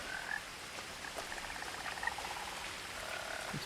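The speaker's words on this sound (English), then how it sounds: "And frogs. Many frogs." Many frogs croaking together at night in the game What Remains of Edith Finch, a steady chorus of soft, distant calls with faint rain-like patter underneath.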